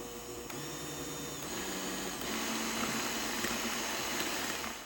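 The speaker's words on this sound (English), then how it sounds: "use your hand mixer on medium speed for about 20 or 30 seconds and then move it up to high speed" An electric hand mixer whirring at high speed while beating piña colada icebox pie filling, a steady close motor whine that rises slightly in intensity partway through.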